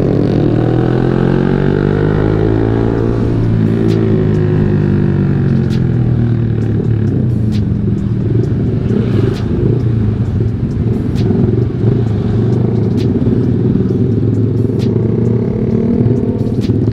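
A Yamaha R15 V3 (2020) sport motorcycle riding on a road, its engine droning loud and close with rising and settling revs and steady wind rush, no talk.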